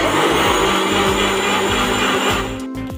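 An electric blender grinds cold milk with cardamom seeds for Punjabi lassi, a loud steady motor whine with churning hum that holds evenly and then eases slightly near the end.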